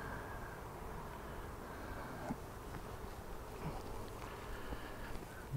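Honeybees buzz steadily around a capped brood frame in an open hive, a soft continuous drone close by with faint scattered clicks and no talking.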